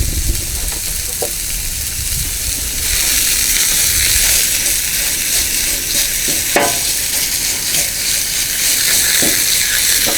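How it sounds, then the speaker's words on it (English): Breakfast taco filling sizzles loudly on a Blackstone griddle outdoors on a cool morning, a dense continuous hiss broken by a few clicks and scrapes of a spatula. "Ah, you like that sizzle, huh?"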